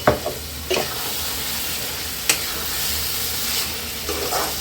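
Byadgi chilies hit a frying mutton masala, giving a steady close sizzle broken by a few sharp scraping stirs of the pan.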